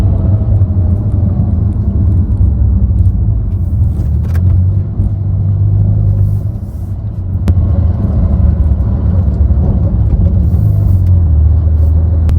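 A 2023 Porsche Carrera S drives steadily through a neighborhood, heard from inside as a loud, constant low engine and road rumble with a brief dip in level midway.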